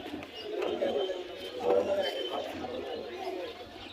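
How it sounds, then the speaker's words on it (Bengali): Pigeons coo softly at a busy pigeon market in Jinjira, Bangladesh, their low throaty calls rising and falling over several seconds while traders talk nearby. "মার্শাল্লাহ সুন্দর কবুতর"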